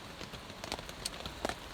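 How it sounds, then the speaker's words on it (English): Rain patters on a tent in a muddy Ozarks camp on a morning, with soft scattered drops and a few sharper taps against a quiet, steady hiss, close and fairly faint. "I'm sure you can hear that it's raining"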